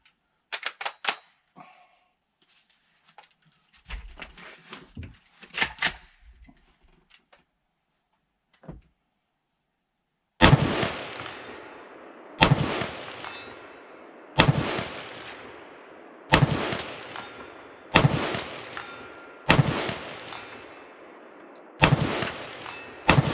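Outdoor shots from a Palmetto State Armory KS-47 pistol on a sunny range, eight loud, sharp reports spaced about two seconds apart, preceded by quieter scattered clicks and handling noise.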